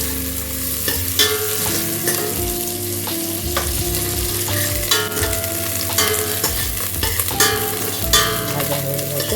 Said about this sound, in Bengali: গ্যাস স্লো করে ভাজতে হবে, নইলে পুড়ে যাবে